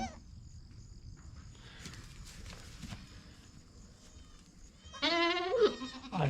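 Baby goats on a farm near a goat barn bleat in a short, wavering burst near the end, loud and close after a quiet stretch of faint rustling and footsteps.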